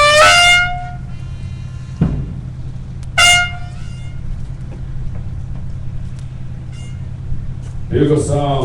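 Brass calls ring out at a military change-of-command ceremony: a bright tonal blast, a second shorter call a few seconds later, and another burst near the end, over steady low background noise.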